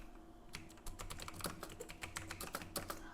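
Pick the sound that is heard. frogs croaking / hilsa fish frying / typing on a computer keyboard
typing on a computer keyboard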